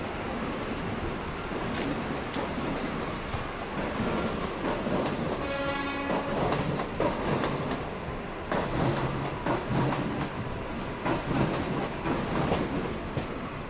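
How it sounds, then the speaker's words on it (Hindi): A Vande Bharat Express crossing another train on an early-morning journey from Mumbai makes a continuous rolling rumble with clickety-clack wheel beats and a brief high metallic squeal, heard from inside a moving train. "तो वंदे भारत एक्सप्रेस से क्रॉसिंग अपनी"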